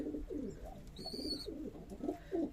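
Pigeons at a Chapainawabganj pigeon farm coo softly and repeatedly while a pair feeds two chicks, with low throaty calls overlapping in a quiet setting and a brief higher chirp in the middle.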